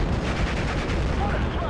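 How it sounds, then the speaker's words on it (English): Tank gunfire and a Sherman tank's fuel explosion in the Normandy-set war game Steel Division: Normandy 44, a continuous loud rumbling roar of gunfire and blast filling the whole moment. "Boom. Fuel explosion."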